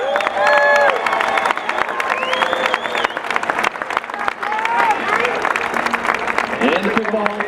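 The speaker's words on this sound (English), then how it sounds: "Please give a big round of applause for Daniel Gabanek" Audience applause and cheering fill a hall at the 2019 Pickleball Hall of Fame induction ceremony, a dense, steady wash of clapping with whoops and crowd voices throughout.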